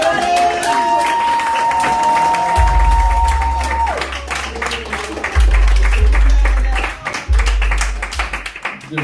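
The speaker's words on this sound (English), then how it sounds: "Please give a big round of applause for your headliner, your previous winner, Vigil Vincent, everybody!" An audience at a comedy show applauds its headliner with a dense, sustained patter of clapping and some cheering, mixed with loud music tones and low thumping beats.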